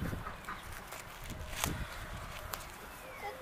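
A hen with bumblefoot being treated clucks softly amid faint handling clicks and rustles, quiet and close, with a few sharper knocks scattered through the short stretch.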